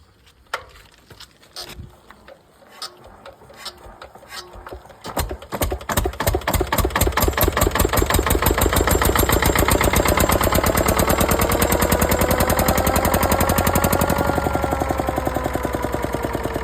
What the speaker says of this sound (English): he's got a nice Armstrong siddley engine, diesel stationary engine